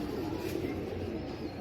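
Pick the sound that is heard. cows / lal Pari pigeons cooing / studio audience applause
lal Pari pigeons cooing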